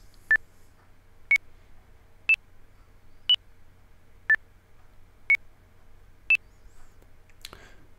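Workout app tempo timer set to a one-one-one-one pattern, sounding seven short, clean electronic beeps spaced one second apart with slightly shifting pitch, alone over quiet background, ending with a brief click.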